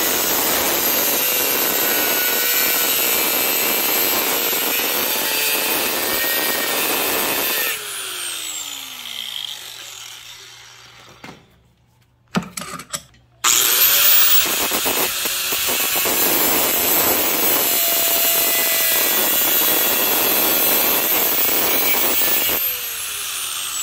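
Long stretches of harsh grinding or filing on a metal shaft held in a vise fill the clip, broken by a brief quieter gap with a few clanks before resuming.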